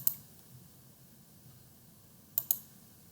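Several soft mouse clicks run code cells in a Jupyter Notebook: one isolated click, then after a long quiet gap a quick pair of clicks, all crisp and close against a faint background hum.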